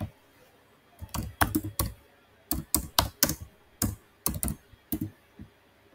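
A lead's first and last name is typed into business software on a computer keyboard, heard as close, crisp bursts of keystrokes with short pauses between them, and no talking.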